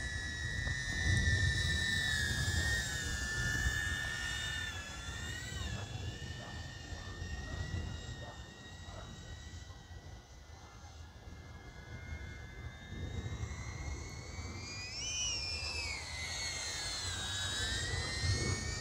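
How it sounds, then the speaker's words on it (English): A DJI Avata FPV drone flying in manual mode gives a steady, loud high-pitched whine of spinning props that holds close throughout, its pitch rising and falling as the throttle changes. "very surprised that this little drone has so much power"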